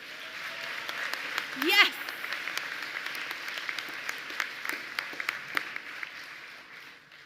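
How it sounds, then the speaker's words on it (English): Graduates at a commencement ceremony give a faint, distant round of applause, a thin patter of scattered claps under a speaker's voice on the public address. "Give yourselves one more round of applause"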